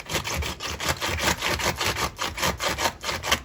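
Bread knife sawing through food in a kitchen, a steady rasping back-and-forth stroke repeated about ten times in quick rhythm, close and fairly loud with no talking.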